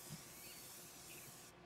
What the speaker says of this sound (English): That's just a can of red spray paint.